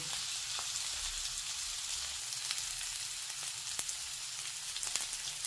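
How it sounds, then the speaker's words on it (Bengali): Cauliflower and potato frying in oil with turmeric and salt, a steady close crackling sizzle with scattered small pops and no voices. "নাও একটু হলুদ দিয়ে নুন দিয়ে ঢেকে ঢেকে এটাকে ভেজে নেব"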